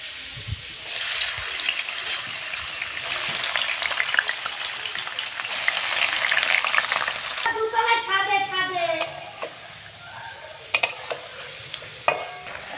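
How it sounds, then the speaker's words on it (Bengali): Paneer pieces sizzle loudly in hot oil in a kadai. The crackling frying is steady and close, then gives way to softer stirring and bubbling. "দেখো, আমি পনিরটা হালকা করে ভেজে নিয়েছি"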